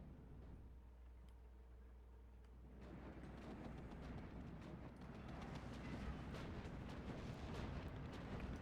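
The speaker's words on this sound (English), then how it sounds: "IL-4 gets the bomb." A bomb dropped by an IL-4 bomber in the Steel Division II war game: a dense, rumbling explosion with crackling debris that swells after a low steady hum and keeps roaring, faint and distant-sounding, without speech.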